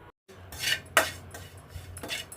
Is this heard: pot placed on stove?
yes